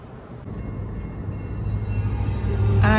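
A train rolls along a railway track close by, a steady broad rumble that builds in loudness over a few seconds, with a rising tonal whine near the end.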